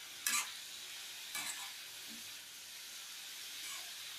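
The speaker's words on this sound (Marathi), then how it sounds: "भाजी घातल्यानंतर आपण ही जरा अशी ओपन फ्राय करून घ्यायची आहे" Dill greens for shepu bhaji open-frying in a pan, a steady soft sizzle and hiss running throughout, broken by two brief louder stirring scrapes near the start.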